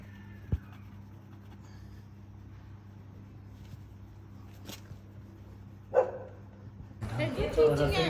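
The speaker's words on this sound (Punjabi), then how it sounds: "ਕੁੱਤਾ ਬੜਾ ਭੌਂਕਣ ਡਿਆ" A dog barks a few scattered times at a distance over a low background hum, with a louder burst of noise near the end.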